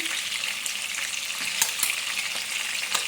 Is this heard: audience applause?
no